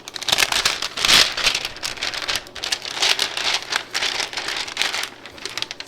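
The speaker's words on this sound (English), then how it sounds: "And then we're going to place it in the sublimation shrink wrap." Sublimation shrink wrap is handled while a tumbler is slid inside, a close, dense run of plastic crinkling and crackling with rapid irregular bursts throughout.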